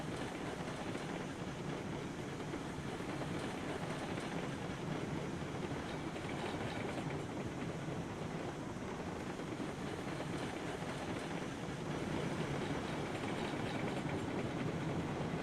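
A train hauling a passenger car rolls steadily along in the Railroads Online video game, a continuous faint rumble with rhythmic clickety-clack from the wheels, the sound steady throughout and nobody speaking.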